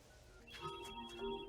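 A telephone in the film Hook rings with a short, faint electronic ringtone trill, heard alone at low level.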